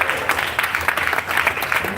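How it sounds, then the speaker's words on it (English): Audience at a town hall event applauding steadily, a dense, close wash of many hands clapping continuously for the whole moment, with voices in the crowd beneath it. "Jazz Mobile, clap it up."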